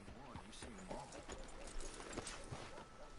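Horse hooves clip-clopping in a video game, a steady rhythmic patter under talk and background game sound.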